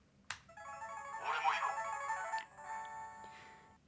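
Ryu Hadouken toy gloves in mode B play a bright electronic jingle, a short sequence of beeping tones opening with a sharp click, clear and fairly close with no talking over it.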